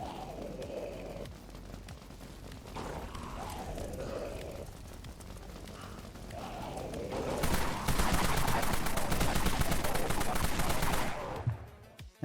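Pistol gunfire in the video game Dead Frontier: a rapid run of loud, sharp shots fired in quick succession over a steady background rumble, cutting off abruptly at the end.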